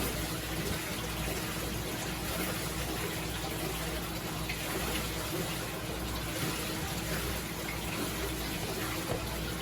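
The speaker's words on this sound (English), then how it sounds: "Okay, let's go ahead and fill that up." Tap water runs steadily into an aquarium tank, a constant soft rushing hiss with no pauses.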